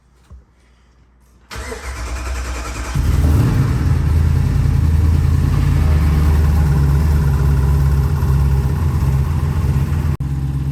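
A 426 Hemi V8 in a Jeep Wrangler cranks and catches, then settles into a loud, steady rumbling idle that runs on for several seconds before briefly cutting out near the end.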